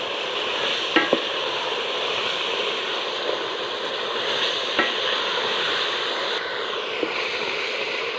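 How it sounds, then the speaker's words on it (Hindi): Chana pulao masala with dry coriander and a splash of water sizzles steadily in a pan while being stirred and roasted, with occasional sharp spoon scrapes against the metal. "हल्का सा पानी लगा के हम इसको अच्छी तरह भून लेंगे।"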